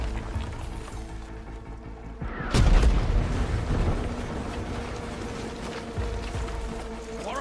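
A heavy explosion booms out in the middle of video game combat, followed by continuous rumbling gunfire and blasts that keep going to the end.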